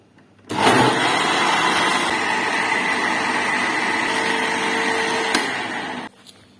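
Kitchen blender grinding kadhi batter with spices switches on abruptly and runs as a steady, loud, high-pitched whir for about five and a half seconds before cutting off, with no talking.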